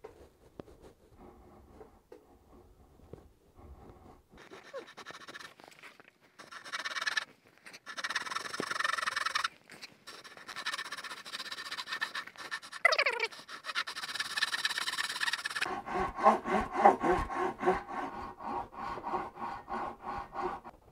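A hand saw cuts a wood dovetail joint in uneven bursts of rasping strokes, starting hesitant and then steady and close, with short pauses between runs and a faster, denser stretch at the end.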